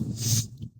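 A single sharp sneeze from a person, bursting out loudly and close, followed by a brief sniffly exhale as it fades.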